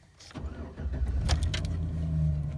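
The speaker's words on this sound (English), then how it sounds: "Fire my truck up here." A 2008 Chevy Silverado truck engine cranks and fires up, then settles into a steady, close idle with a low rumble throughout.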